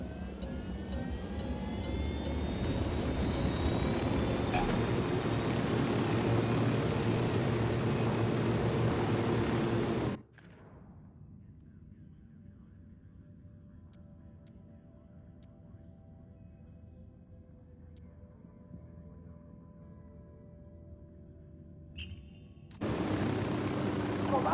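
Aircraft engine drone in the video game Ghost Recon Wildlands, loud and steady for about ten seconds, then dropping to a muffled low hum before the roar returns near the end.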